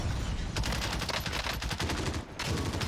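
Rapid automatic fire from a LAPA SMG in a video game, a steady run of closely spaced shots lasting a couple of seconds, loud and continuous with a brief break near the end.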